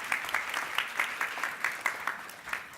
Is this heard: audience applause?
yes